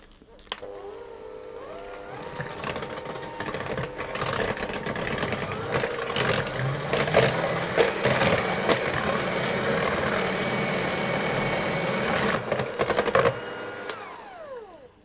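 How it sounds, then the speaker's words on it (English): Eggs whisked one at a time into carrot cake batter for a Nordic carrot cake, a loud, steady whirring and rattling that runs almost without a break for about twelve seconds before cutting off near the end. "I'm going to add the eggs in one at a time, and I'm going to whisk those until they're fully combined"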